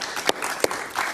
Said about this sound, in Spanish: Un aplauso para Alonso Moleiro